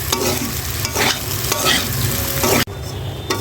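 Beef frying in foaming mustard oil, a loud continuous sizzle with stirring scrapes, briefly dropping out near the end before resuming.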